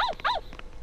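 A small dog named Chako barks in the Shin Yomawari horror video game, giving two quick, bright, yelping barks close up, followed by fainter trailing yips.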